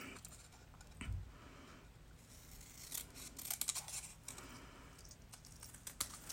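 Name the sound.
scissors cutting out a paper stamp by hand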